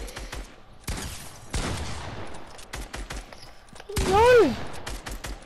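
Rapid bursts of Fortnite video game gunfire crackle repeatedly across the clip, loud and near, with a player's shout cutting in near the end.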